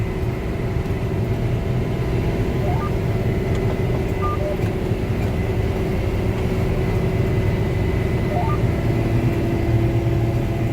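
A John Deere 4920 sprayer's 9-liter six-cylinder turbocharged engine drones steadily and loudly from inside the cab, a constant low rumble with a faint whine and a few small electronic beeps.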